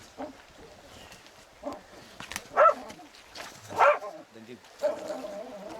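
A few sharp dog yelps and barks ring out at irregular moments, mixed in with people talking and general commotion nearby.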